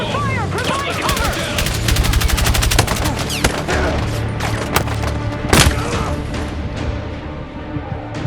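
Dense combat gunfire from Battlefield 6: rapid machine-gun bursts and fusillades crack continuously for the whole stretch, loud and close, with a heavier thump near the middle and shouted game voices mixed in.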